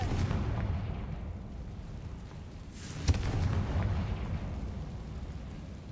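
A Confringo fire spell exploding in the video game Hogwarts Legacy, a rumbling blast with one sharp crack midway over a dense, noisy background.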